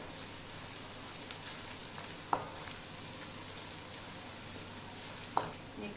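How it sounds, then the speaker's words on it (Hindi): Onions softening in a pan for beef Bihari keema, a steady low sizzle running throughout with a few faint clicks of stirring, close and moderately quiet. "2 से 3 मिनट सिर्फ हमने इसे पकाना है ताकि थोड़ा सा प्याज जो है वो नरम हो जाए"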